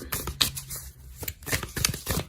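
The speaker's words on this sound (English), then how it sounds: "we'll give them another quick shuffle on camera" Tarot cards shuffled by hand in a quick sequence of papery riffles and flutters, close and fairly quiet, with a few sharper slaps as the deck is squared.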